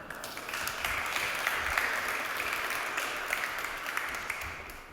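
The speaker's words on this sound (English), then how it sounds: "A warm applause for Björn." An audience at an AI conference applauds a speaker coming on stage, with even, sustained clapping from a sizeable crowd heard at a moderate distance for five seconds.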